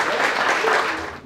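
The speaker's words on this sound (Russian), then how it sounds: "Аплодисменты!" A hall full of people applauds at a community reunion gathering, giving a short, loud wash of continuous clapping that tapers off slightly at the close.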